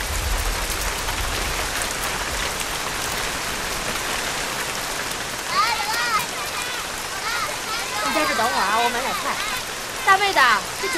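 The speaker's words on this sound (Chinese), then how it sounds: "天要下雨了" Rain falling in a street market scene from a television drama, a constant dense hiss of drops across the whole stretch, with voices talking over it in places.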